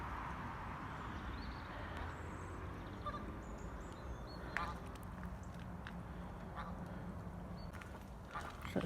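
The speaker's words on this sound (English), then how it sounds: "Definitely gained a goose." A goose honks faintly a few times at a distance over a low, steady outdoor background around flooded winter fields, the calls brief and thin.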